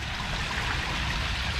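A rebuilt backyard pond waterfall in St. Clair Shores pours steadily into the pond, making a continuous rushing, splashing wash of water that stays even and fairly loud throughout, with no voices.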